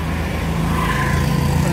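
Road traffic on a busy street in Velachery, Chennai, with a steady, dense rumble of passing vehicles and engines throughout, loud and continuous.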